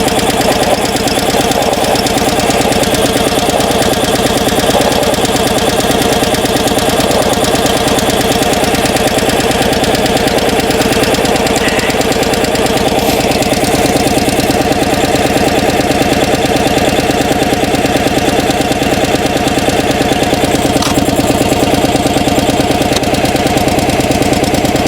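A log splitter engine idles after a cold start on partial choke, a loud, continuous close-up chug with a steady knocking rhythm that lasts the whole span, with no talk.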